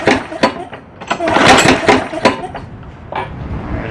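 A lawn mower engine with a wrong blade fitted is pulled repeatedly to start, giving several loud, close, sputtering bursts and a near-backfire pop that never catch into a run.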